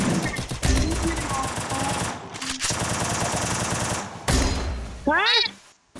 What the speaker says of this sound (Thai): ตรงไหนมันยิงวะ